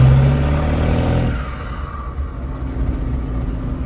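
A car's engine growls loudly as it pulls away, with a deep rumbling rev up close that eases into a steady drone while the vehicle drives off.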